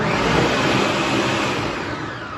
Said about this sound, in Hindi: अब इस सबको हम जार में डाल देंगे, सॉरी जार में नहीं, ब्लेंडर में डाल देंगे और इसको ब्लेंड कर लेंगे